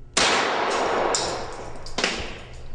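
A close, loud gunshot rings out and strikes a titanium ring target with a sharp crack and a long metallic ring. A second, smaller impact follows about two seconds later.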